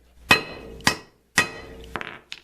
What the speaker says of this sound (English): they get hammered out from the front and they'll come out the back here